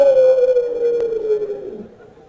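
A dog or wolf gives one long, loud, close howl that falls slowly in pitch and fades away over a couple of seconds, with nothing else heard beside it.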